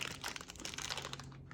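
A small Mr Beast Deez Nuts skinny mini candy bar wrapper is crinkled and torn open at close range, a dense run of crackling plastic rustles lasting throughout with no voice.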